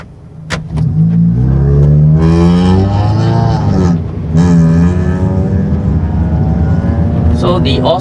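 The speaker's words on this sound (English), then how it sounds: "can you see the cars passing by," Cars pass by on a road at night, a loud, close engine roar that rises and falls in pitch with passing swells and continues steadily throughout.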